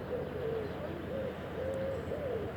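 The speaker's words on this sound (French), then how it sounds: "Vous entendez peut-être la mer, les oiseaux." Birds call softly by the sea, with a few repeated cooing notes over a steady low wash of surf, faint and distant.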